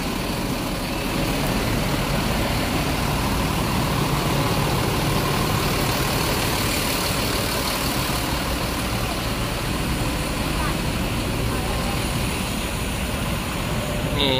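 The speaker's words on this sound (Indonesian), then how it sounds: "Ini masih ramai truk yang ngantri solar." Trucks queuing for diesel at a fuel station rest area idle with a continuous low engine drone, a steady broadband rumble with no break, heard at night from nearby.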